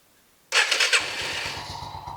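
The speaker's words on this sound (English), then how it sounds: "So if I start the bike," A Yamaha Riva 180 scooter engine cranks and fires after a brief silence, then settles into a steady, close idle.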